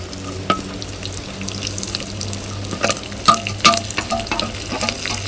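Onion, green chili and curry leaves frying in oil in a pan, a steady close sizzle with occasional spoon taps and stirring bursts.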